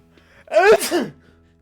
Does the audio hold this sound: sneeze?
yes